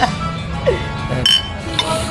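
Drinking glasses clink together in a toast, a few short bright taps over ongoing casual chatter.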